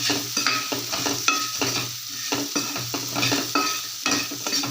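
Onions sauté with salt in a pan to the rhythmic scrape of a spoon, with soft sizzling under repeated stirring strokes, up close and with no talk.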